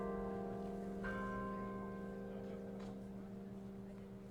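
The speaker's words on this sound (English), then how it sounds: "Church bells now chiming." Church bells ring at a memorial service for a police officer outside a building, sustained tonal bell ringing layered over a steady engine-like drone, fairly distant and continuous throughout.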